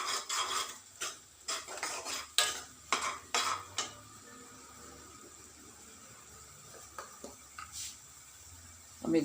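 Spoon scraping and clinking against a pan while spiced eggplant bartha is stirred with chilli powder, a series of close, irregular knocks and scrapes in the first four seconds, then quieter occasional clinks.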